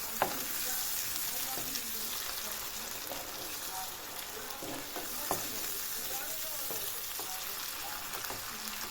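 Tomato and pepper paste sizzles steadily in a pan, a dense continuous frying hiss with occasional sharp crackles and stirring clicks throughout, close and fairly loud with no talk.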